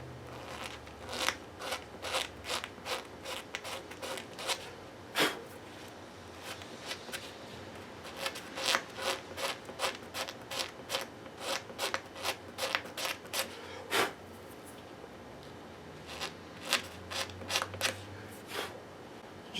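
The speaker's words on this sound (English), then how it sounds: "I'm just scraping these dots clean now with a razor blade." A razor blade scrapes the inlay dots clean on a freshly refretted guitar fingerboard, sharp close scratchy strokes in quick bursts and clusters with short pauses between, and no voices.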